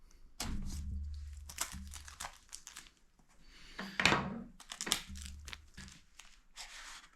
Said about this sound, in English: So we are going to cut in here. Breaking the seal.